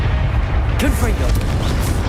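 Confringo blasting spell bursting in Hogwarts Legacy: a loud booming explosion with crackling debris, heard beneath continuous game sound and shouting voices.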